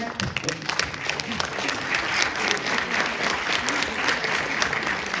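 Steady audience applause at a volunteer awards gala, honouring a nominee; dense sustained clapping from a large crowd, fairly distant in a hall, with faint voices mixed in throughout.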